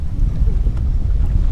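Strong wind buffets an open boat while crappie fishing, a steady low roaring rumble that presses on the microphone throughout with no pauses.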